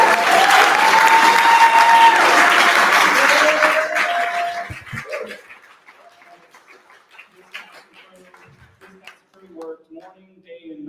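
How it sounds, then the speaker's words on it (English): A cinema society screening audience applauds the cast and crew loudly for about four seconds, with a whistle cutting through. The clapping then dies down to scattered quieter sounds. "give me a little round of applause there."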